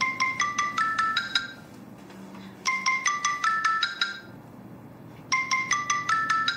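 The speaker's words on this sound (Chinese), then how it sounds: "谁的电话？" A mobile phone ringtone plays a bright, repeating melodic pattern in three distinct bursts separated by short pauses, ringing clearly indoors over a faint low background hum.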